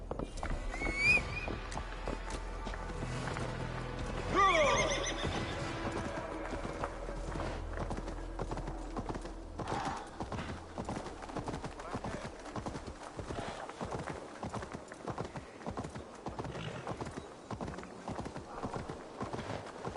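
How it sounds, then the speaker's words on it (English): Horse hooves galloping in the video game Assassin's Creed Valhalla, a steady rapid clip-clop rhythm with a brief neigh early on, under game music and a person talking. "Let's go, horsey!"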